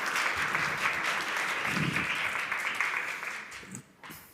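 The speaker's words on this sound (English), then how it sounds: "Let's give a round of applause." An audience at the EuroTeQ Waste Challenge awards claps for a presenting team, giving steady, fairly close applause that thins out and stops near the end.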